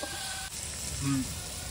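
Water is poured onto potatoes frying in a hot pan, a short loud hiss and sizzle close by that swells briefly and settles into steady bubbling.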